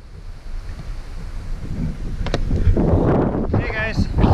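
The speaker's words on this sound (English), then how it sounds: "Today is windy, but the skies are a little bit blue, depending on where you look." Blustery wind on an outdoor October day buffets the microphone with a steady low roar that swells louder partway through, while a person talks over it.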